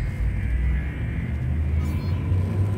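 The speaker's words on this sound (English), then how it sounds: "Frameshift drive charging." A frame shift drive charging aboard a ship in Elite Dangerous, a deep continuous rumbling hum with a faint rising tone, steady and loud with no voices.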